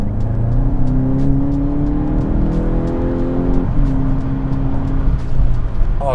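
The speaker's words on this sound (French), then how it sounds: "Et le son du moteur" A Volkswagen Golf 8 GTI Clubsport engine idling and revving close by, loud, its pitch rising and settling over several seconds with steady mechanical rumble.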